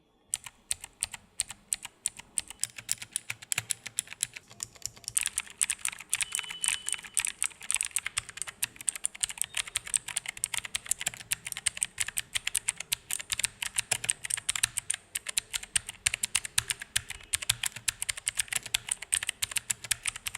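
Rapid, crisp keyboard clicks rattle on continuously at close range, a dense stream of key presses on a Dr Luxur Darkfire 60% mechanical keyboard with no voices.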